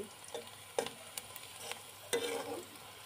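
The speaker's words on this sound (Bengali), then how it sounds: "আমি পেঁয়াজ মরিচ লাল করে নিচ্ছি।" Onions and chillies browning in a pan with a soft, continuous sizzle, broken by a few sharp scraping and stirring knocks, close and fairly quiet.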